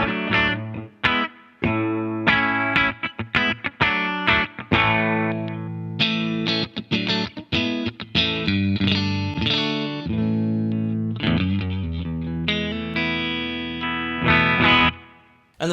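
An electric guitar plays a clean, bright chord-and-note passage with a splashy spring reverb tail, close and steady with brief gaps between phrases.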